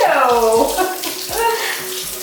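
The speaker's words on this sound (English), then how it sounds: "Turn the water back on." Water runs from a household tap into a sink or tub during an at-home haircut, a steady close rush under a brief voice with some clattering handling sounds.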